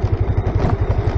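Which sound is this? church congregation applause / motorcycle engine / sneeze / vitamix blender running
motorcycle engine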